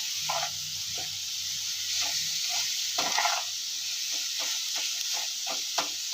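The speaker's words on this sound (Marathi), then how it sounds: "हे चांगलं मिक्स होईपर्यंत असं व्यवस्थित असं परतून घ्यायचं" Cashew and almond slivers sauté in a pan of sweet modak filling flavored with cardamom, giving a steady soft sizzle and hiss with light scraping taps of a spatula stirring throughout, no voices.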